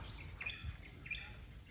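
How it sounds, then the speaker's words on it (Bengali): Two short chirps from a bird sound faintly at a distance over a low, steady outdoor rumble. "পাখির কুজন।"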